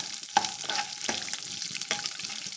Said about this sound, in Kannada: ಈರುಳ್ಳಿ ಸ್ವಲ್ಪ ಫ್ರೈ ಆಗಿದೆ